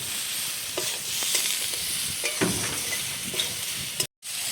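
Potato, pointed gourd and soybean stir-fried with spices sizzle steadily in a pan, with intermittent scraping stirs throughout, then a brief cutoff near the end.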